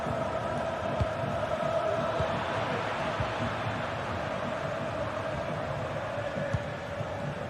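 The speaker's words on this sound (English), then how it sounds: "The crowd urging him to shoot" Stadium crowd noise in a football video game, a steady, broad roar with a faint hum that holds an even level, with no voices on top.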